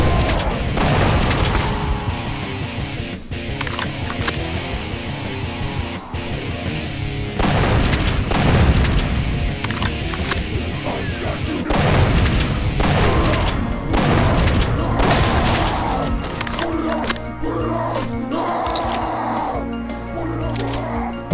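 Rapid gunfire from enemy gunners in DOOM 2 with the Project Brutality mod, loud bursts of shots and booms running throughout with no talk.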